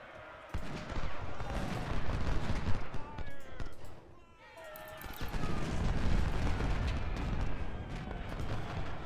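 Cannon and musket fire in the Ultimate General: Civil War game at the Battle of Gettysburg, dense booming volleys and crackling shots filling the mix, with a brief lull midway before the barrage resumes.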